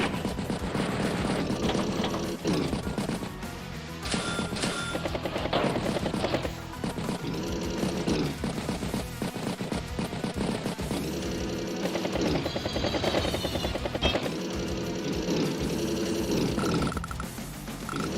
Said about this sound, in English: Battlecopter strikes battlecopter